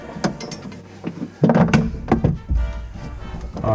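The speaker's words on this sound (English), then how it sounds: "I'm just gonna get one snug with the screwdriver" A screwdriver snugs down the mounting of a Moen Align 5923 kitchen faucet, making close clicks, thunks and ratcheting scrapes in irregular bursts, with no talking.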